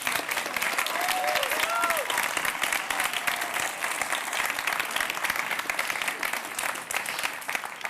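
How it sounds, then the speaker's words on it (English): Sustained audience applause for winning student teams at a European youth award gala, dense steady clapping from a large crowd throughout, with a few faint voices and a brief whistle early on. "So let's have a big round of applause for our winning student teams."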